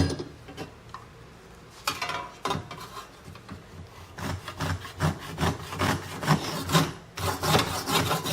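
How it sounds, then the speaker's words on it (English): A handsaw cuts through a piece of starboard plastic sheet, giving repeated rasping back-and-forth strokes that grow denser and louder in the second half, close up with no talking. "I started off with the handsaw"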